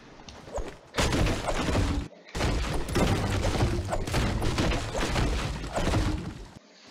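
Dense, loud bursts of gunfire fill a Fortnite match, coming in long sustained volleys broken by two brief silent gaps, with no voices over them.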